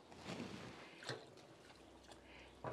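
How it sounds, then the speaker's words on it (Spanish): A little more water pours into a cooking pot in a soft, faint trickle and splash, steady and quiet throughout with a couple of slightly louder spurts. "Le voy a poner otra poquita de agua"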